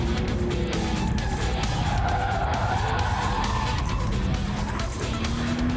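An Audi RS4 Avant quattro's tyres squeal steadily in lift-off oversteer through a chicane, a continuous skidding screech over loud engine and road noise that fills the whole stretch.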